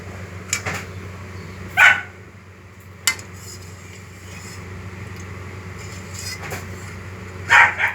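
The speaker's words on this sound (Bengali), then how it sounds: "কাকে চিৎকার করছে কুকুরটা?" A dog barks a few times at a distance in a village kitchen, with sharp isolated yelps separated by quiet background hum.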